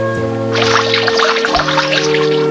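Water poured from a pitcher in a steady splashing stream lasting about two seconds, under soft sustained background music in an animated Beauty and the Beast fairytale.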